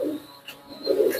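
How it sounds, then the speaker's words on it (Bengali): Teddy pigeons released from a loft give soft, close cooing calls in short murmuring bursts at the start and end of the clip. "আমি আরও দু একটা কবুতর ছেড়ে দেখাচ্ছি আপনাদেরকে।"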